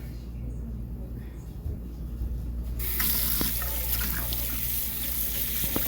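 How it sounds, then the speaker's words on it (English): Tap water pours steadily into a sink while corn is washed under it, the flow growing louder and more gushing midway, with a low background hum throughout. "Then we are going to go ahead and wash our corn."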